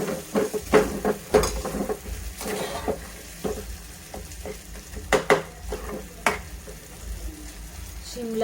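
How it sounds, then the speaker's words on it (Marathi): Capsicum (shimla mirchi) sabzi sizzles in a pan as salt is stirred in, with a spoon scraping the pan in repeated, uneven strokes over a steady, close frying hiss. "मीठ टाकल्यानंतर मीठ मिक्स करून घेऊ."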